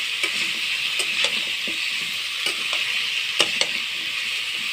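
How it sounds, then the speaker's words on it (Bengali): Ash gourd and other vegetables for a fish curry fry in a pan with a steady hiss, punctuated by regular spatula clicks and scrapes at close range, without talking. "তরকারিগুলো আমি ভালো করে ভেজে নেব।"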